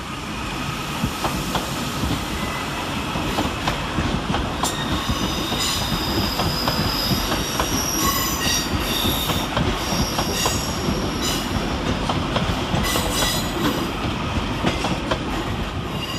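Two East Midlands Railway class 158 passenger trains roll into Manchester Piccadilly station with steady rumbling and clattering wheels, high metallic squeals of brakes and rails rising over it, moderately close.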